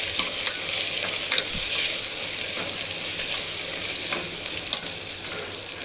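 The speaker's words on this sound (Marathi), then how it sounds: "परतून घ्यायचं।" Rice is sautéed in a pan with biryani masala and coriander for black pea pulao, giving a steady close sizzle with a few scraping stirs and light clinks, no talking.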